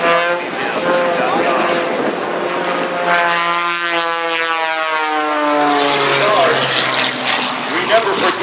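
Warbird propeller airplane flying past at a Fort Worth airshow, a loud droning engine whose pitch sweeps downward as it passes, with an announcer talking over the public address throughout.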